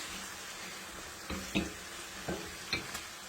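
Ground meat and onions sizzle in a pan for baked kibbeh while a utensil stirs them, giving a steady close frying hiss with a few soft scraping strokes.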